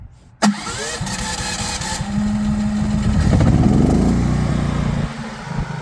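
An inverter generator running on propane cranks with a sharp start, then settles into a steady, close running hum that swells slightly and holds its drone.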